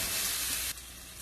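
Onions stir-fry in a pan for noodles, giving a bright, loud hissing sizzle close up that drops suddenly to a quieter, softer frying hiss partway through.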